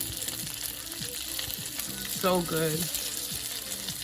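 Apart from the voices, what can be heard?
plant-based meatballs browning in a pan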